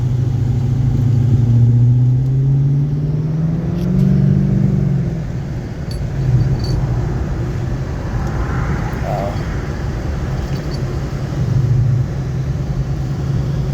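A car engine idles steadily in cold weather with heat and heated seats on, a constant low rumble close by that fills the clip without a break.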